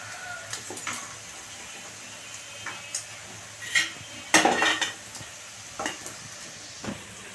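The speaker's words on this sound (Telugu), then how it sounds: "స్టవ్ ఆఫ్ చేసేసి ఇప్పుడు వాటిని బౌల్లో పక్క తీసేసుకుందామండి" Fried dried prawns are scraped from a pan into a bowl: a run of irregular metallic clinks and scrapes, louder in a brief cluster midway, over a faint lingering sizzle.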